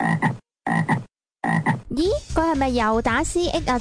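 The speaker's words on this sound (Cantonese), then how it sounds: "你啱啱聽到嘅係青蛙嘅聲音" A frog croaks in a rapid run of pulsing calls that swell and fall in pitch. A voice speaks briefly in short bursts beforehand.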